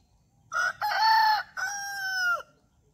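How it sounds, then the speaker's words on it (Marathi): A farmhouse rooster crows early in the morning near Safale, Palghar, in two loud, close calls with a brief gap between them, heard alone with no talk. "तर छान असा कोंबडा तुम्ही इकडे बांग देताना बघताय"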